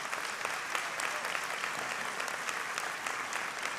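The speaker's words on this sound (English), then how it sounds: "With a round of applause, let us recognize them for their contributions" Steady applause from a commencement ceremony audience, dense clapping at an even level throughout with no break, heard from within the crowd.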